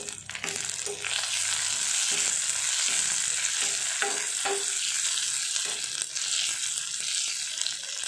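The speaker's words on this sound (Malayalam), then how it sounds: "ഒരു മൂന്ന് തണ്ട് കറിവേപ്പിലുണ്ട്, അതും കൂടെ നമുക്ക് ഇതിലേക്ക് ഇട്ട് കൊടുത്തിട്ട് നന്നായിട്ട് ഇളക്കി കൊടുക്കുക" Three sprigs of curry leaves sizzling in hot oil with chickpea curry aromatics, a continuous bright crackle broken by several spoon-stirring scrapes and knocks against the pan.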